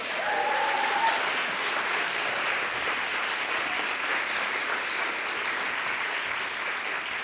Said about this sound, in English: Would you please give them a big round of applause?